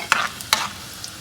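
Mustard seeds and chopped onion frying in oil for an Andhra-style karela pickle, two short scraping stirs over a faint sizzle, close and brief.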